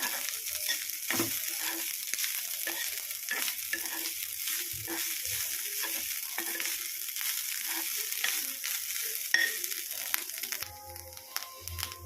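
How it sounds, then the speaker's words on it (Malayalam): Steady sizzling in a pan as ingredients are roasted to light brown for jackfruit erissery, with repeated scraping and stirring strokes, close and continuous, fading slightly near the end. "ഇതൊന്ന് ലൈറ്റ് ബ്രൗൺ ആവുന്നവരെ ഒന്ന് വറുത്തെടുക്കണം"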